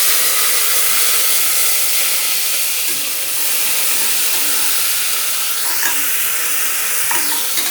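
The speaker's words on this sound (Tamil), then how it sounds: "வெங்காயம் வதங்கட்டும்." Chopped onions and green chilies sauté in a pan for a yellow pumpkin kootu, giving a steady close sizzle and hiss with occasional stirring scrapes; no one speaks.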